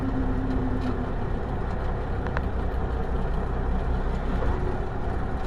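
M923 military truck engine rumbling steadily while shifting into first gear, a constant low drone with no talking over it.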